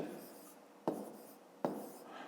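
A pen writes numbers during a fifth-grade maths lesson, with soft scratching strokes and two sharper taps as it meets the paper; the sound is close but quiet, in a hushed room.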